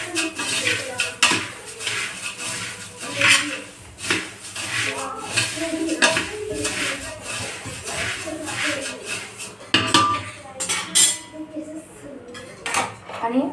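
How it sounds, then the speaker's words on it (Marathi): Puffed rice with peanuts and coconut being stirred and tossed in a kadhai, with repeated metallic scrapes and clinks of the spoon against the pan and a dry rustle of the grains, close and fairly loud. "तर हे छान मिक्स करून घेऊ आधी"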